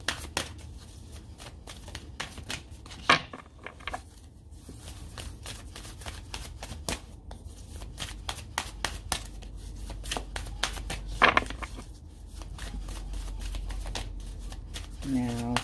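Tarot cards are shuffled continuously at close range, a steady riffling, flapping patter with a few sharper snaps, while a person talks over it now and then.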